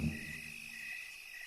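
Steady, shrill chirping of crickets in the countryside, continuous and fairly close, with a brief low rumble at the start that fades away.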